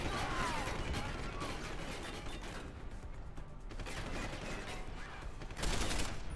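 Dense gunfire and mechanical clatter in Deus Ex: Human Revolution on PC, a steady wash of rapid shots and impacts with brief louder bursts, continuing throughout at even loudness.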